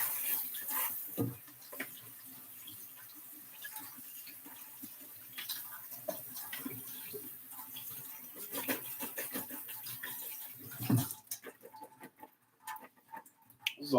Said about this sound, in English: Now I gotta rinse them again.